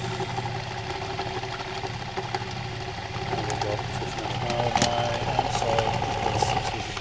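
A small engine running steadily at around 1000 RPM on its first run, with a continuous mid-pitched hum and drone that builds slightly louder toward the end, heard up close with no talking.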